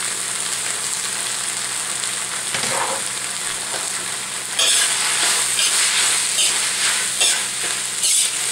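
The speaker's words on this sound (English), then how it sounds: "Stir that together good and proper." Tofu and bamboo shoots stir-fried in a wok give a steady, close sizzle with scraping stirring strokes, the frying growing louder and brighter partway through, with no voices.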